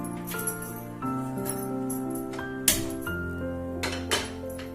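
A pressure cooker handled in a home kitchen while preparing Goa style usal: light metallic clinks and taps against a steady tonal background, with one sharper clank near the middle and a few softer knocks.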